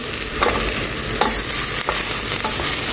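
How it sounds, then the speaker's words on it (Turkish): Lentils dry-roasting in a pan, with repeated scraping stirs every half second or so over a continuous frying hiss, close and fairly loud, no voices. "Mercimeklerimi kavuruyorum bir güzel."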